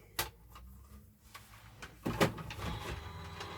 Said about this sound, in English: pop it through your embossing machine